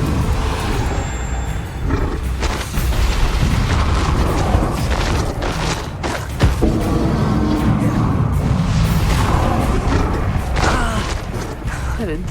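A Depulso spell blast in the Hogwarts Legacy video game: a loud, dense burst of booming, roaring force in a sustained rumbling wash of battle effects, with a voice calling out.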